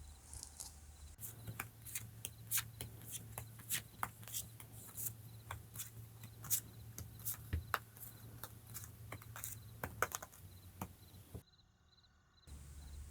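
Tarot cards being shuffled and drawn in a quiet room, a long run of soft, close card clicks and flicks with a steady low hum beneath, ending in a brief silence.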